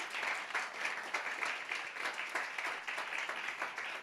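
A church congregation applauds steadily throughout, a dense, even wash of many hands clapping at once with no pauses and no voices rising above it.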